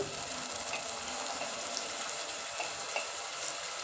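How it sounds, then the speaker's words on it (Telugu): Ginger garlic paste frying in a pan for paya curry, a steady, close, hissing sizzle that holds evenly throughout with faint crackles and no voices. "అల్లం వెల్లుల్లి పేస్ట్"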